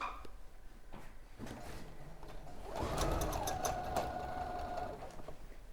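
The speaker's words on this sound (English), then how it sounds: "I'm just going to sew along the edge of the bosal" A sewing machine stitching along the edge of a wrap-around lap quilt runs in a steady whirring burst of about two seconds, close and moderately loud, preceded by a few faint clicks and handling sounds.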